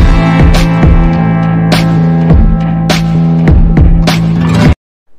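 Sewing machine stitching a half-inch folded hem on a cowl-sleeve garment, a loud, steady motor hum broken by rhythmic bursts of needle clatter, stopping abruptly near the end.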